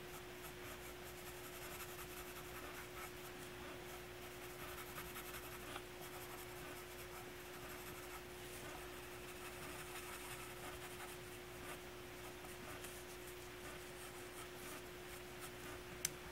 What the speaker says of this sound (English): I'll draw the inside right away again.